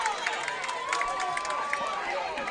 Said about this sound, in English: They were yelling defense here